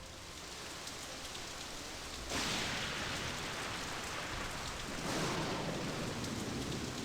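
Heavy rain and thunder in a Nancy Drew video game set in stormy San Francisco, a dense, steady downpour hiss that swells louder twice as rolling thunder joins in, with no voices.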